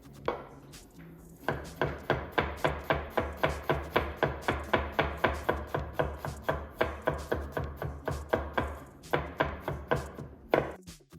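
A knife chops garlic on a cutting board in a rapid, steady run of sharp, close knocks, roughly thirty strikes after a short pause, ending with a few scattered taps.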